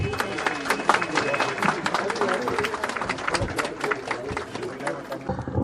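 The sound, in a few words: crowd applause at rally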